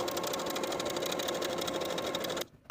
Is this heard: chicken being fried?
no